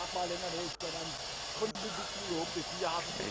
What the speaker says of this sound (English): it seems it's a venting of the LOX tank.